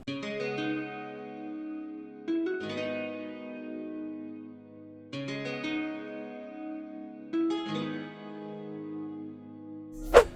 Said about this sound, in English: it was the guitar from Strum Session 2. Amp Jazz is the preset, and this is what it sounds like